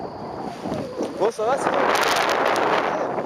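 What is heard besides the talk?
wind blowing during paragliding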